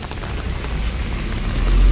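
Steady rain hisses down on an outdoor second-hand car market in Guwahati, a dense, even wash of noise that swells slightly louder toward the end of a brief two seconds, with no voices.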